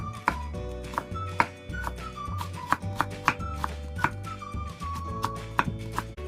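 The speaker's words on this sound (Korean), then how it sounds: "눈에 좋은 당근은 채 썰고" A knife julienning carrots on a cutting board, sharp regular chopping taps at close range over a steady low background hum.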